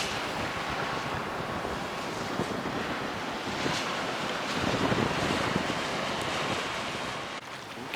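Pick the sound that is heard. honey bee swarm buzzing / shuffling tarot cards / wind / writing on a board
wind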